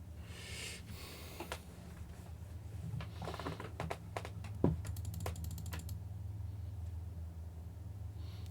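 Fast clicking on a computer keyboard during a game session, quick bursts of faint, light taps and clatters over a low steady hum, with a few sharper clicks clustered in the middle.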